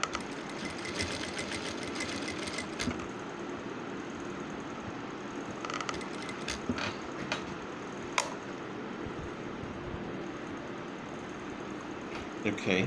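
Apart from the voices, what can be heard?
sewing machine stitching decorative neck piping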